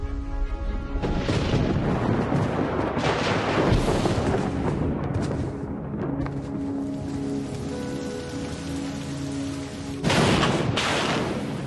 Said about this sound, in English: It rained for thousands of years.